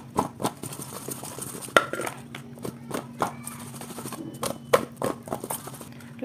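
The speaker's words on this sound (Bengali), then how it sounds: "এইভাবে ভালো করে শেক করলেই ভালো মাখা হবে।" Cut guava pieces with chili powder and black salt are shaken in a container to mix, making a steady run of close rattling, knocking and clattering bursts.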